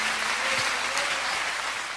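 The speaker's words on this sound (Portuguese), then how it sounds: "os que podem, dar a Jesus uma linda salva de palmas" A church congregation applauds, steady dense clapping that fills the space for the whole stretch without a break.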